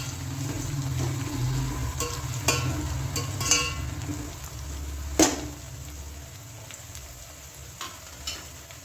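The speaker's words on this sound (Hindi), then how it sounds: "इसी स्टेज पर इसमें बीच से चीरी हुई हरी मिर्च डाल दें और दोनों को अच्छी तरह चलाते हुए 1-2 मिनट तक भून लें।" Onions and slit green chillies frying in oil while being stirred, a steady close sizzle with occasional scraping clicks of the spoon against the pan.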